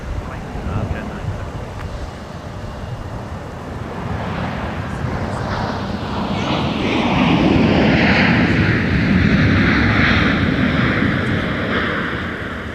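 An airliner arriving to land at Minneapolis–St. Paul airport in winter gives a steady, swelling jet engine roar that builds to a loud peak near the middle and holds, with radio chatter underneath.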